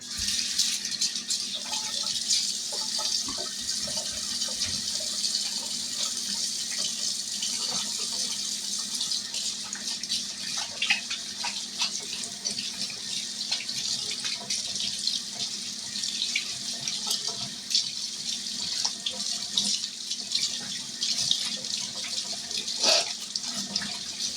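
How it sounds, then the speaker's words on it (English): Running water from a kitchen tap flows steadily while hands are washed beneath it, a close, continuous hiss with small splashes throughout. "let me wash my hands right quick"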